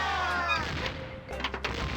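Game gunfire from The Curse of Monkey Island: a loud cannon-like boom that rings and fades, then a couple of sharper reports, with no voices.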